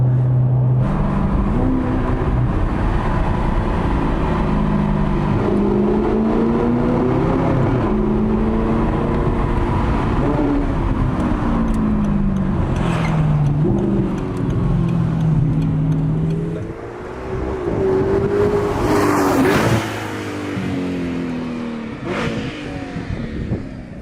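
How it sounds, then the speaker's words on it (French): An Audi R8 with a naturally aspirated V8 roars loudly and steadily, its engine note climbing and falling through repeated revs and gear changes, with a sharp burst near the end. "Ce qui est sympa avec cette voiture là, c'est le bruit, évidemment, V8 Atmo."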